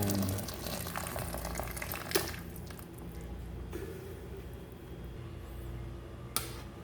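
Water simmering in a pot of mung bean stew with bitter melon, a soft bubbling and sizzling wash with a couple of sharp clinks from a utensil against the pot.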